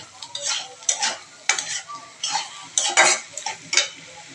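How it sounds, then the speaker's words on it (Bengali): Noodles being stirred and fried in a pan, a rhythmic series of scraping spatula strokes and clinks against the metal over a light sizzle, close and fairly loud. "ভালো করে নাড়াচাড়া করে ভেজে নিচ্ছে।"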